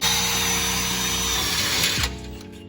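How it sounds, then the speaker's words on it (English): A power drill bores a hole into a G35's exhaust pipe ahead of the muffler, a loud, close, continuous whine that suddenly spins down and stops near the end. "Wow, that actually drilled through really well"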